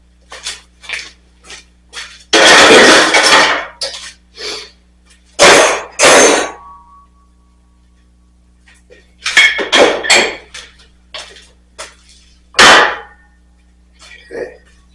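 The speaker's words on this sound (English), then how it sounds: "I just took a punch to the end of this spring part and just kind of hit it until it loosened itself up" Hammer striking a punch against a jammed spring part from a custom double mini bike, several loud metallic clanks in uneven bursts, close and harsh, with lighter taps and handling noises between them.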